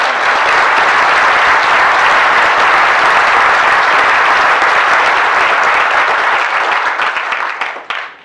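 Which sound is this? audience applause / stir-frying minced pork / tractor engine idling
audience applause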